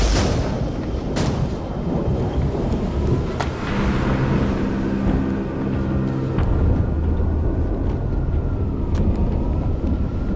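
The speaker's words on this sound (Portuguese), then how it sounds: "Sabia que tinha uma tempestade vindo?" A thunderstorm with steady heavy rain and deep rolling thunder rumbles on loud and continuous, with sharper cracks early on and a low sustained roll through the middle, no voices.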